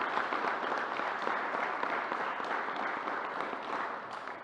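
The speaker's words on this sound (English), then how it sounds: "So let's give New Yorkers a round of applause." Applause at a New York governor's news conference rises as a dense, steady wash of clapping, fairly faint and distant, continuing throughout with no talk over it.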